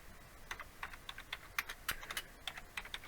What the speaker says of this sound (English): So now click over here and type Kevin